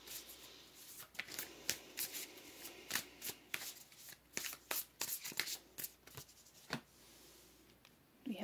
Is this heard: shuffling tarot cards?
yes